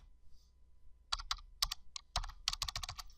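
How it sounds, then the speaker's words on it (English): Keys clatter on a computer keyboard in quick bursts of typing, close and crisp, with short pauses between clusters of keystrokes. "I'm going to use my keystrokes."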